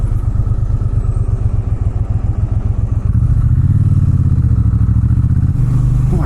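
A Triumph Bonneville T120 engine throbs loudly and steadily while the bike is ridden, a deep pulsing parallel-twin note that shifts to a fuller, stronger drone partway through as the rider opens the throttle.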